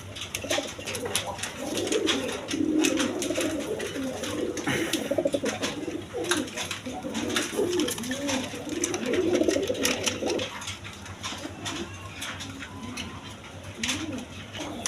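A pair of Gorra pigeons, black and white eyed birds, coo steadily in low rounded repeated phrases throughout, close by and moderately loud, with a faint background hum.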